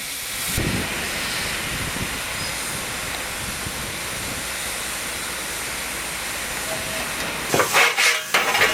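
A steam locomotive in Poland lets off a loud, continuous hiss of steam that carries on for most of the stretch, then gives way to a few heavier mechanical thumps near the end.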